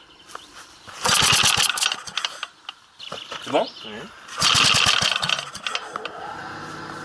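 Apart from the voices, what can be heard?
small engine starting with carburetor fitted, test start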